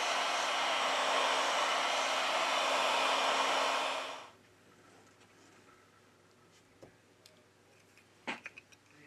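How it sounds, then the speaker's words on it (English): A heat gun blows a loud, steady hot-air roar onto the back cover of a Huawei P40 Pro Plus 5G phone for about four seconds. It then switches off, leaving near-silence with a few faint clicks and taps. "With the help of a heat gun, we apply 90 Celsius degrees during 4 minutes."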